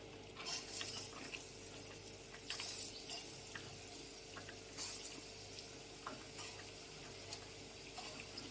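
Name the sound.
fritters (bora) frying in mustard oil in a wok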